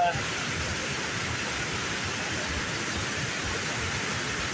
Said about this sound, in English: waterfall's kind of running a little fast this morning